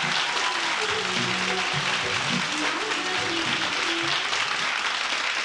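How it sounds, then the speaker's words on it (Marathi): An audience at a Mangala Gaur event in Pune applauds a judge, giving steady, dense clapping that carries evenly from start to finish with no voices standing out. "जोरदार टाळ्या सुकन्या ताईंसाठी."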